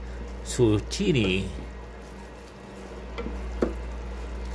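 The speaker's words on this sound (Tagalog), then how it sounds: "Gisahin lang mabuti mga kajuit ang corn beef bago ilagay ang in-slice na zucchini" Corned beef being sautéed in a pan, with brief stirring scrapes and soft sizzling early on, then a quieter steady fry with a few faint clinks, under a person talking.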